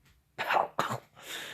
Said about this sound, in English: Just coughing up, but he's having a hard time breathing